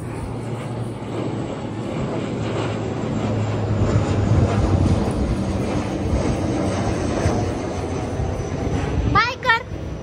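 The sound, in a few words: airplane flying overhead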